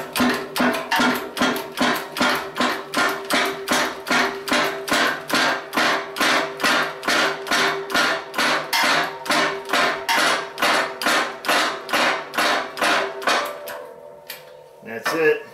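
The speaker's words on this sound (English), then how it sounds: "Sometimes you gotta get a little hammer, just kind of tap them around." A small hammer tapping a press-in wheel bearing into place, with roughly thirty sharp metallic taps in a steady, even rhythm, close and loud, stopping near the end.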